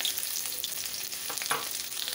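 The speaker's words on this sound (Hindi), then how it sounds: "ऑयल गरम किया है और प्याज उसके अंदर चॉप की हुई बारीक डाल दी है" Finely chopped onions fry in hot oil in a frying pan, giving a steady close sizzle with a few brief stirring scrapes near the end.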